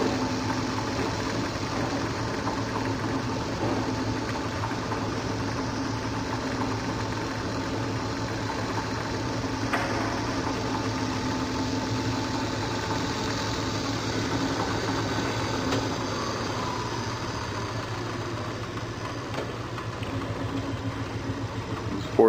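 A used Hardinge precision toolroom lathe spinning at its top speed of 3000 RPM, a steady continuous whirring hum with even loudness throughout and no voices.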